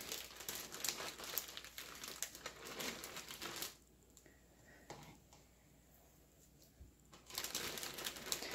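A plastic zipper-seal bag being filled with shortening crinkles loudly up close, goes quiet for a few seconds, then resumes its crackling rustle.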